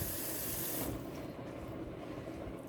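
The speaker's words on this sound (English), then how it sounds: "I'm going to add water into this now because the burner's already on." Water pours into a pot on a lit stove burner with a brief rushing splash, then drops to a soft, close hiss and simmer with no voices.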